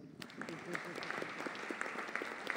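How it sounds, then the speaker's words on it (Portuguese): Audience applause fills a solemn honorary ceremony, a steady patter of many hands clapping at moderate level throughout the short stretch, with faint voices underneath. "mais uma salva de palmas"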